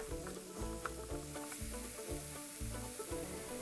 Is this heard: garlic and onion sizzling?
yes